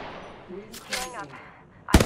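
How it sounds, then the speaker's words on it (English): Gunfire in Apex Legends: a dull, muffled report under a talking voice, then a sharp, loud burst of shots right at the end. "I am taking fire, friends."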